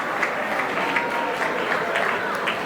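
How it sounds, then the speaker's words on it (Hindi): Sustained audience applause at a school annual prize ceremony, a dense steady clatter of many hands filling the hall for the whole stretch without a break. "तालियां नहीं रुकनी चाहिए"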